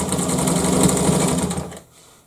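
A Wards Damascus rotary sewing machine runs in a fast, steady whirring clatter for almost two seconds, then winds down to a faint hum.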